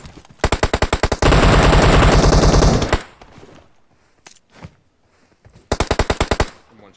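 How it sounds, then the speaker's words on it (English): Heavy automatic gunfire in a first-person team deathmatch shooter: loud rapid bursts, then a sustained stream of fire, a few scattered single shots, and a final rapid burst, with no talk. "That one, there's a lot of gunshots."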